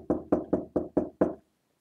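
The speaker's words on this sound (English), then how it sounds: "and knocked." Six sharp knocks on a wooden office door in a quick, slightly uneven rhythm, close and distinct, followed by a short silence.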